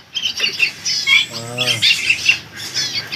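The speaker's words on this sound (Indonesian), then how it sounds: "Ini ada burung hantu." An owl calls with one harmonic, moaning hoot lasting about half a second, set among sharper bird chirps and squawks. The calls are close and moderately loud, with no talk.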